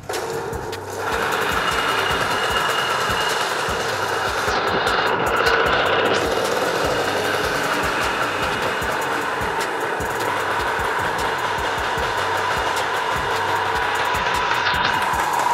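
Restored Mobylette moped with a rebuilt carburetor idling close by, a buzzing, rapid, even putter that holds steady for the whole stretch with no voices over it.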